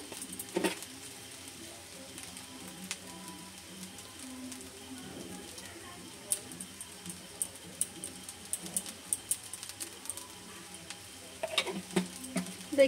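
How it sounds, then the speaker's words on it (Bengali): Ghee-coated leftover rice stirred in a pan for a sweet Bengali dish, giving soft continuous scraping and patter with sporadic sharper clinks of the spoon, steady and fairly quiet throughout with a few louder taps near the end. "ঘি দিয়ে দিয়েছি, এবার নেড়ে নিচ্ছি।"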